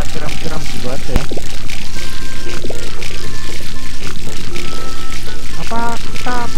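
Watering-can sound effects from Harvest Moon: Light of Hope splash and pour as crops are watered, loud repeated liquid bursts mixed with game music and people talking.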